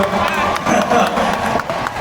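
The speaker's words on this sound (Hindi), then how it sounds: "ये तालियां भी सबसे पहले बीवियों ने बजाई है" Audience at a live comedy and music show in Dubai clapping and cheering, a loud dense burst of applause with shouts and crowd noise mixed in, close and continuous throughout.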